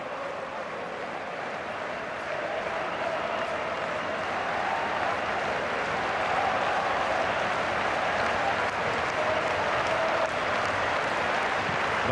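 Sustained applause from a standing crowd of about 69,000 spectators in Munich's football arena during a Bayern Munich versus Real Madrid match, a steady dense roar of clapping that swells slightly and holds throughout.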